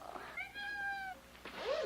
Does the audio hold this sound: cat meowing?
yes